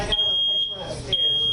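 A household smoke alarm gives two loud, shrill electronic beeps about a second apart, close by, with faint talk in the background.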